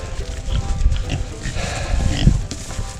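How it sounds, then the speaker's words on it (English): Pigs grunt and snuffle nearby as they are herded into their pens on a farm, a busy, continuous mix of close animal noises and shuffling with no clear talk. "I'm gonna put these pigs up."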